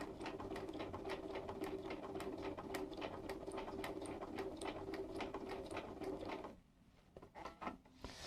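A Bernina 135 sewing machine stitches curves with a steady, rapid mechanical whir and needle clatter for about six and a half seconds, then stops, leaving a few soft handling clicks and rustles close by.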